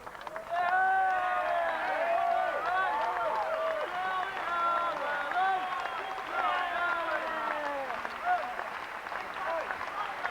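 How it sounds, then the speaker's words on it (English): Subdued applause and crowd noise drift from the stadium stands at the third Great Britain v Australia rugby league Test of 1997. The clapping is steady and fairly distant, mixed with crowd babble and a commentator talking over it. "muted applause, of course, from the Ellen Road stands"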